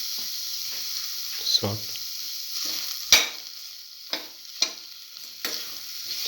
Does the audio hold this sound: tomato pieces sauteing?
yes